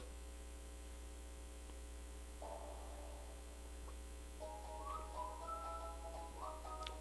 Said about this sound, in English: Get this whistling bullshit the fuck out of here.